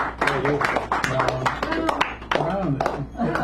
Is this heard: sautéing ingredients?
no